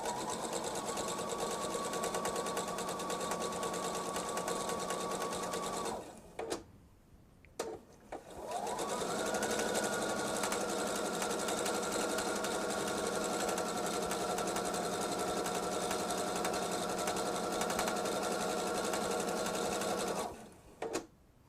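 Domestic sewing machine stitching jelly roll fabric strips, running in a steady close, continuous whir for about six seconds, pausing briefly, then a longer sustained run to the end.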